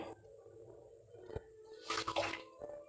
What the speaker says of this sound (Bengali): 4 বাটি জল দিয়ে দেবো। চার বাটি জল দিয়ে দিলাম।